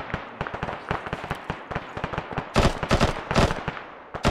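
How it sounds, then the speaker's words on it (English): Gunfire from an Arma video game mission cracks in dense, rapid bursts, many overlapping shots close and loud, growing heavier toward the end, with no talking. "Sounds like the gunfire."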